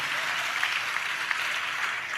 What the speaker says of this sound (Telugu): చప్పట్లు కొడితే యేసయ్యకు స్తోత్రాలు చెప్దాం.